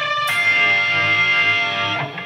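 A heavily distorted electric guitar sustains a loud, screaming unison bend, ringing steadily on its own for a couple of seconds before easing off.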